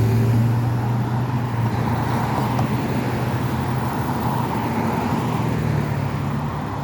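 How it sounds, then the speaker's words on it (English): Cars roll past on a Boston street in a continuous, fairly loud wash of road noise and engine hum, with no distinct pass-by peaks standing out and no talking. "Now, most of these cars are doing more than 20 miles an hour"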